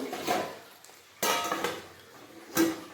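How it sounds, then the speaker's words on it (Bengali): Metal clanks as a lid is set on a pot of cooking chicken giblets and liver, three separate knocks spaced about a second apart, close and clear in a quiet kitchen. "আবারও ঢাকা দিয়ে দেব"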